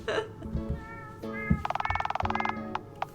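Cat meowing in the video game Dialtown, several short tonal meows followed by a rapid pulsing, trilling cry, clear and close with faint background sound.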